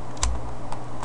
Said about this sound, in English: Now then here I'm typing chaos.esper.net.